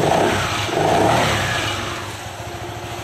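A Honda ADV 160 scooter engine, recently flood-damaged, revs up nearby, loud at first and then easing slightly as it keeps running steadily for a few seconds.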